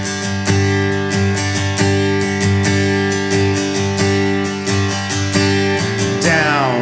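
Steady strummed acoustic-style guitar chords from a worship song tutorial, with regular down-up strokes in an even rhythm, close and fairly loud, ending with a brief sliding string noise.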